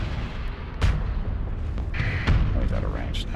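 Ion cannons fire in a Starsector space battle, sending a few sharp booming bursts through a dense, rumbling mix of weapons and game effects while someone talks over it.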